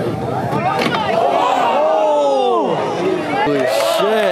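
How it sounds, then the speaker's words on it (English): A crowd gathers at an outdoor BMX jam, Florideah Swampfest 2019, making a loud, continuous babble of voices with shouts and cheers rising over it throughout. "Oh, the crowd is talking."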